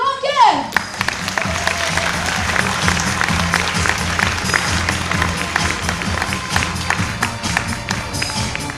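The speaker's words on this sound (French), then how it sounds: "Mesdames et messieurs, veuillez applaudir Séléné," An audience at a stage performance breaks into sustained applause, thick rapid clapping with crowd noise and a few voices mixed in, after a brief musical swoop at the start.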